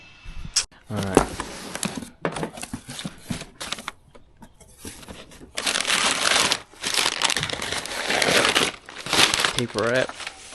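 Crinkling, crushing paper wrapping from a CTS turbo intake for a BMW G20 330i, in repeated bursts, close up and fairly loud, with a voice speaking briefly between handfuls.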